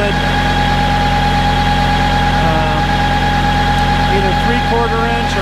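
A Kubota B7100 tractor drives a NorthStar PTO generator at fairly low RPM, giving a loud, steady engine drone with constant low rumble and vibration that runs through the whole stretch, with no talk over it.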